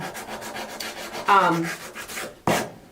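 Rapid, rhythmic scraping strokes of a power sander on wood, close by, with a sharper rasping pass near the end.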